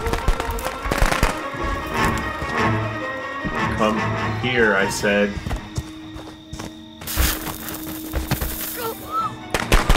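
Rapid bursts of firecracker-like pops and crackles in the video game Friday the 13th: The Game, mixed with loud game effects while a person talks over them.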